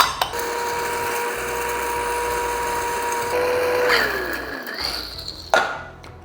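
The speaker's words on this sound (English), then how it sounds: "I'm going to very quickly grind them in this" A small electric spice grinder whirs steadily for about four seconds as it grinds toasted whole spices including shahi jeera, then winds down, followed by a couple of clacks as the lid is handled.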